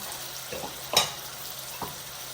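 Tomato masala frying and being stirred in a pan, a faint steady sizzle with a few soft scraping strokes and one sharper clink of the spoon against the pan.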